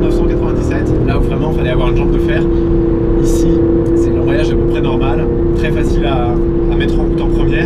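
Aston Martin Vantage AMR, a 2019 manual-gearbox sports car, drives on a circuit with a steady, loud engine drone running throughout. Someone talks over it the whole time.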